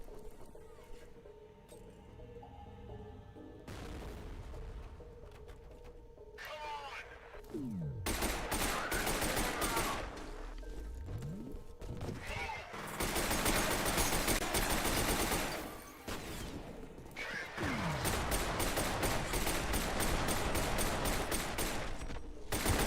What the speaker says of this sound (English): there was one dude with a shotgun and he got way too close to us